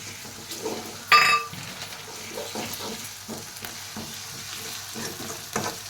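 Ginger garlic paste and onion fry with turmeric in a pan, a continuous sizzle broken by regular stirring scrapes and one sharp metallic clink near the start.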